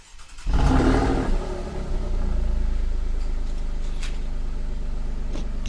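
Alfa Romeo Stelvio Quadrifoglio with exhaust valves closed, fitted with a Forza valve controller: the engine starts and revs up, then settles into a steady, muffled rumble nearby for several seconds.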